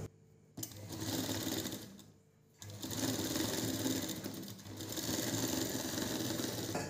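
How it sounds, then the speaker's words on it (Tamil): A sewing machine runs a pressed seam on a blouse, whirring close and loud in sustained stitching runs broken by two short pauses, the longer one after the first couple of seconds. "இப்போ ஒரு அமுக்கு தையல் போடப்போம்."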